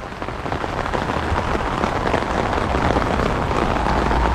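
Steady rain pours down during a yard long bean harvest, a dense, loud, continuous patter drumming on leaves and surfaces close by, with no voices.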